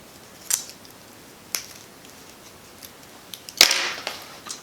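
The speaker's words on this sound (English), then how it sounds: "I'm going to cut this card off of here." Scissors snip through a card attached to a wig, three crisp close cuts spaced apart, the last one longer with a brief rustle after it.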